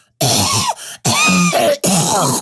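A voice imitates a cough: three harsh, throaty coughs in a row, loud and close, separated by short pauses.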